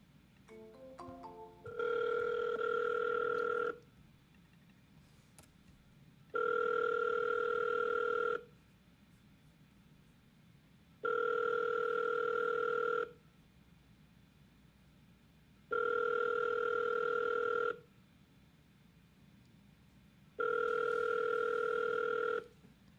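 A telephone ringback tone from a power dialer placing a cold call repeats five times, each two-second ring separated by a pause of about two seconds, clear and steady with no talking.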